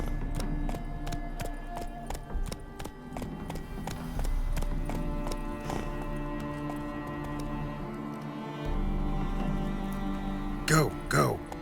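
Hooves clip-clopping as a horse gallops in The Witcher 3, a rapid, regular run of sharp, distinct thuds over a low rumble, closing with a brief flurry near the end.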